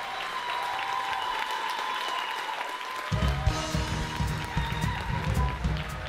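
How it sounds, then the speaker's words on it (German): Large audience applause after a theatre premiere fills the room in a steady, dense roar of clapping that grows heavier and louder partway through, with crowd noise mixed in. "nachdem das Stück zu Ende war, gab es einen riesigen Applaus"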